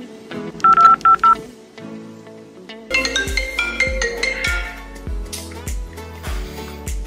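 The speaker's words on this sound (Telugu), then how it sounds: "సుహేల్కి కాల్ చేయాలి." Telephone keypad dialing tones: a quick burst of four near, clear beeps, then a pause and a busier run of tones over a rhythmic thumping beat.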